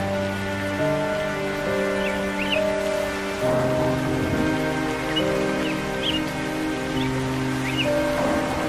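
Cartoon rain falling steadily, a continuous hiss of drops on surfaces under background music tones, with no voices.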